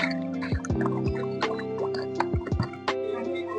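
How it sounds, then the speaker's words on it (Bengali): Water splashes and drips into a container of sago pearls as starch is prepared for polishing a silk saree. Close, ringing drops and plops come at an irregular pace with bubbly, tonal gurgles. "তারপরে জল নেবো।"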